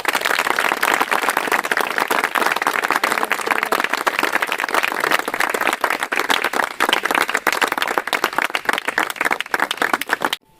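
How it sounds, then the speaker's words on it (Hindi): An audience breaks into sustained applause, dense clapping from many hands filling the room for about ten seconds before stopping abruptly. "मैं चाहता हूँ कि सभी लोग अरुण सर के लिए एक बार तालियाँ बजाएं"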